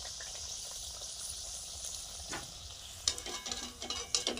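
Luchi, puffed wheat flatbread, frying in hot oil, giving a steady soft sizzle with sharper crackling bursts and spatters toward the end, close by and fairly quiet.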